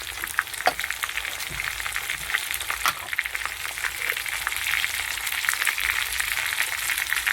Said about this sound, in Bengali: এবার দিয়ে দিচ্ছি টমেটো কুচিয়ে রেখেছি,